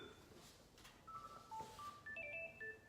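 A mobile phone ringtone plays a melodic series of electronic beeps over a hissy background, fairly faint and building toward the end.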